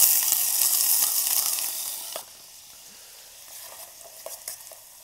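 Chopped onion and carrot hit hot oil in a pan for dry Maggi noodles, bursting into a loud, bright hiss for about two seconds. The hiss then drops to a quiet crackle with a few light stirring taps, and no one speaks.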